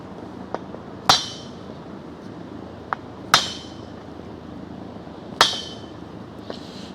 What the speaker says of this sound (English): Take a block of wood and just tap it and kind of walk it out.